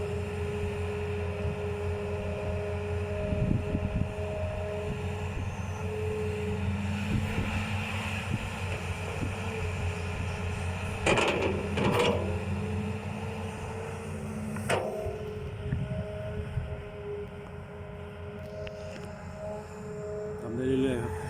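A Caterpillar excavator with a six-cylinder diesel engine digs steadily, a continuous engine drone with swelling revs and occasional sharper knocks from the bucket, loud and close throughout.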